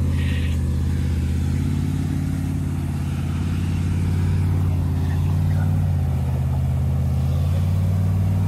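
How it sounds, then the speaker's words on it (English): A Jeep engine labours steadily while towing a broken-down Jeep up a hill, giving a continuous low drone that swells a little mid-way and again toward the end, loud and close. "we are towing a broken Jeep up this hill"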